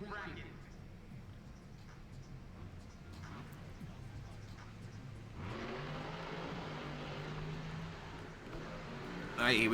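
Monster Jam monster trucks Monster Energy and Black Pearl racing in an arena, a steady engine roar under loud commentary that surges and thickens halfway through as the trucks rev and launch.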